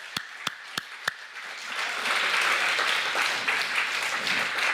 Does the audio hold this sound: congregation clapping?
yes